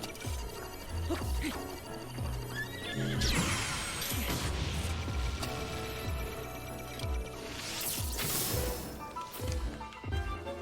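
Horse neighing inside Zelda: Breath of the Wild, a whinny rising over busy game music and effects, with loud bursts near the start and again about two-thirds through.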